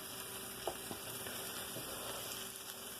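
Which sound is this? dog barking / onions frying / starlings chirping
onions frying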